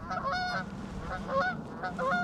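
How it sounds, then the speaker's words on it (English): Geese outdoors in Oxfordshire calling in loud nasal honks, several bursts in a loose rhythm from a small group nearby. "Hello, geese."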